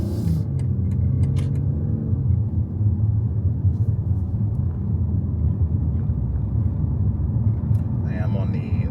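Low, steady road rumble and tire roar inside a BMW X3 M40i SUV cabin, riding on OEM Bridgestone Dueler run-flat tires in comfort mode, continuous and moderately loud, with a brief faint chime near the end.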